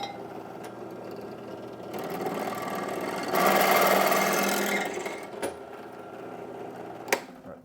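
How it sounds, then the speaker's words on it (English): A power drill bores into metal assembly parts with a steady whirring hum that strains louder midway through the cut, then eases off, followed by a few sharp clicks. "We're going to drill down there."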